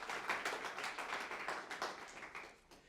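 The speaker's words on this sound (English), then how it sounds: "I think you deserve a round of applause." A small audience at a lecture gives a quiet round of applause, sparse individual hand claps audible as distinct taps in an irregular rhythm, faint and thinning out toward the end.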